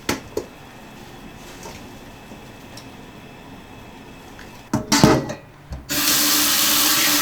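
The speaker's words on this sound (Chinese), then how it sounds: "然后再好好给它清洗一下" Beef offal (bull penis, testicles and oxtail), already stir-fried, is handled in a sink with a few quiet knocks and clatters. Near the end a tap turns on, and loud, steady running water rinses it for the final second or so.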